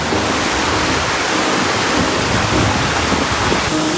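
A powerful stream pours down Towangseong Falls at Seoraksan, making a continuous, loud, rushing roar that stays steady with no voices over it.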